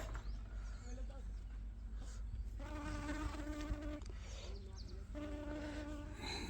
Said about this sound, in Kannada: ಇಲ್ಲಿ ಕ್ಯಾಮ್ರಾ ಮುಂದೆ ರಾಣಿ ಜೇನು ಬಂದೈತೆ ನೋಡ್ರಿ